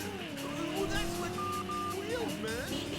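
Car crash in the video game Driver, with a continuous engine roar, sliding tyre and pitch sweeps as a car is rammed from the front, loud throughout with game music or voices mixed beneath.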